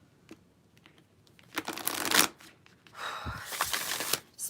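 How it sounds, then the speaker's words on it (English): A deck of quantum oracle cards is shuffled during a card reading, giving two bursts of papery riffling and sliding at close range, with no talking. "Let's do a good shuffle."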